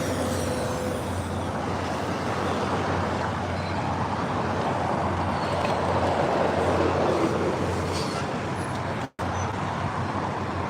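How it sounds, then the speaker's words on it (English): MBTA inbound subway train passing at Cabot Yard, a broad steady rumble of wheels and traffic-like noise heard from a moderate distance, swelling slightly midway, with no voices. "Oh yeah, there's inbound train."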